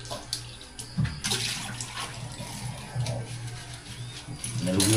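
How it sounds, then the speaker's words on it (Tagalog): Running tap water pours steadily while dishes and plates are washed at a home sink, with a constant rushing stream and a few light clinks of crockery, close and moderately loud throughout. "Hugas tayo ng plato."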